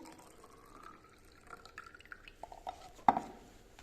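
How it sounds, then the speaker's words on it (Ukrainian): Liquid mixture poured from a calorimeter back into a measuring cylinder during a heat-balance lab, heard as soft trickling and faint clinks with a sharper knock near the end, fairly quiet and close. "назад виливаю із калориметра у мензурку"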